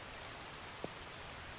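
Steady, even rain hisses over the whole stretch in the survival game The Infected, with one brief soft knock partway through and no voices.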